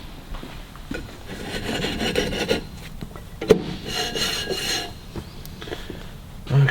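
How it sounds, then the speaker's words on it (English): A VW Beetle brake drum from a 1971 1302 is pushed back onto the rear axle with scraping, rubbing metal contact and one sharp knock partway through. The sounds are close and moderately loud. "Pop the drum back on."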